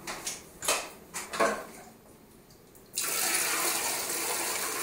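Dirty water from a Rug Doctor X-3 carpet cleaner being poured into a toilet, starting with a few splashes and sloshes, then a pause before a loud, steady gushing pour takes over.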